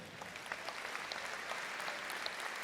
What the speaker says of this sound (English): Acknowledging the audience applause.